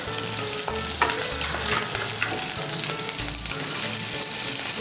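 Onions frying with spices in a pan, loud continuous sizzling with stirring scrapes and clatter, close and steady, no voices.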